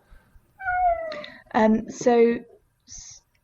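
A house cat meows close by in a few short, rising calls, a longer drawn-out cry followed by a brief chirp, with pauses between, alone with no talking over it.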